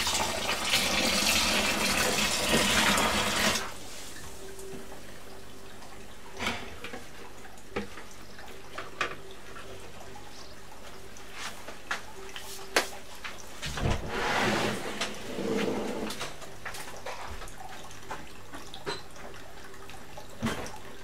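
Tea pours into a brewing vessel for summer fruit wine, a steady liquid rush for a few seconds at the start, followed by quieter drips, clinks and handling noises.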